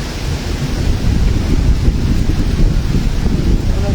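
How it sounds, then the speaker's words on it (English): Heavy rain and gusting wind roar steadily through a strong summer thunderstorm, with low thunder rumbling underneath for several seconds and no voices. "Man, that was a pretty strong storm though."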